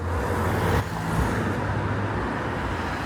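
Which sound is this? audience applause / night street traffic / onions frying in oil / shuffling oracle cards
night street traffic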